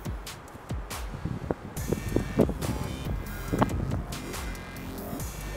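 Wind buffeting an outdoor microphone during a short home abdominal workout, with gusty rumbling and flapping bursts that rise and fall throughout, fairly close and moderately loud.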